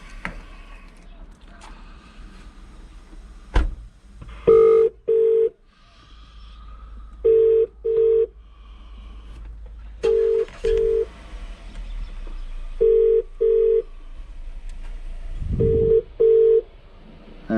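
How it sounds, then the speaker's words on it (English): A phone call to a metals company plays a ringback tone in repeated double bursts, five pairs spaced a couple of seconds apart, clear and close as from a handset, with faint breathing and room noise in the gaps. "Answer the fucking phone."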